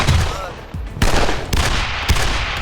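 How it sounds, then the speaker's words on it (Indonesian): Gunfire in a shootout scene from a sniper film: loud sharp shots crack out one after another at uneven intervals, with a voice faintly mixed in underneath. "sehingga terjadilah aksi baku tembak di antara mereka"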